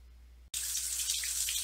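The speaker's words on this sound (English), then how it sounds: "we've got our bathtub going here now. It may be kind of hard to hear me over the water" Water gushes from a bathtub tap after a brief silence, a steady bright hiss of running water filling the tub, loud and continuous.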